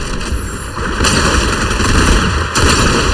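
Rocket launcher fire and blasts in a Fortnite Reload Zero Build match form a dense, loud and continuous wash of booming game noise that swells in a couple of steps, with no talk over it.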